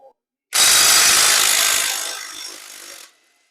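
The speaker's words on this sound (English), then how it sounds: "you can take a impact and just pull this nut off" An impact wrench spins a 19 mm nut off its bolt on a lawn mower wheel axle, giving one loud, close whirring burst of about two and a half seconds that tapers off near the end.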